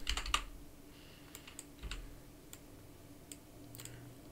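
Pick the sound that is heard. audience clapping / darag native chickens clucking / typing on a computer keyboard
typing on a computer keyboard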